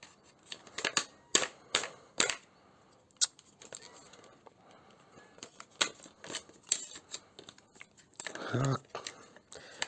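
A CYMA CM512 airsoft rifle test-fires 0.25 g BBs at a target 30 meters away, with a series of sharp, snappy shots spaced irregularly at close range and a brief mechanical clatter near the end.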